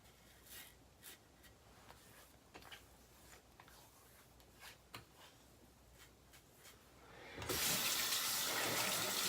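Tap turned on near the end to rinse off after a shave, a steady close gush of running water following quiet rustling and small handling sounds.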